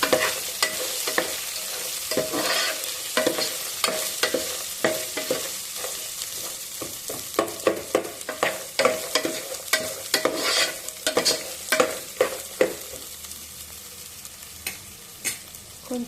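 Ginger pieces fry in hot oil in a pan for upma, a steady sizzle broken by frequent sharp scraping clicks of a spatula stirring, loud and close, with no talking.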